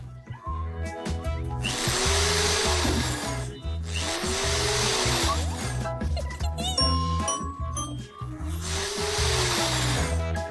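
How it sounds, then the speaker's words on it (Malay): A power drill drives screws while a bed is being built, three long whirring bursts that rise in pitch as each screw seats, loud and close, with small metallic clinks between them. "memasangnya dengan skru"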